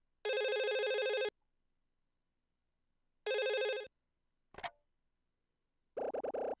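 A phone rings in the video game Another Code: R, repeated electronic ringtone bursts with gaps between them, loud and close, followed by a short higher blip and another ring.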